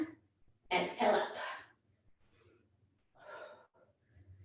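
A person breathes in and then out during a squat in a home exercise session, with a loud close inhale followed by a softer exhale in a quiet room.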